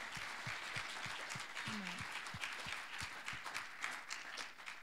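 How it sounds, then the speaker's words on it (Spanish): A church congregation applauds friends during a service, a fairly quiet, steady patter of clapping heard from a distance, with some sharper low thumps mixed in. "Yo quisiera que le diéramos un aplauso a nuestros amigos"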